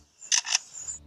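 A lyrebird mimics a camera shutter with two quick, crisp mechanical clicks in close succession, heard up close against near silence.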